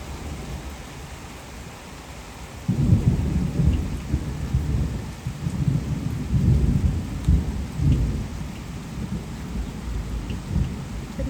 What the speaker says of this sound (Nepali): मेघ गर्जिरहेको छ कि साथीहरू आकाशमा चाहिँ है